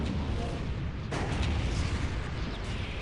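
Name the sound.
Imperial Guard artillery cannon firing in Dawn of War video game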